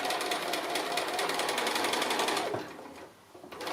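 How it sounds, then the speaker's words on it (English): Sewing machine free-motion quilting around a curve on a cushion, a rapid, steady mechanical needle chatter close by that runs continuously, then slows and briefly dips before picking back up. "And I'm just going to quilt all the way around that curve."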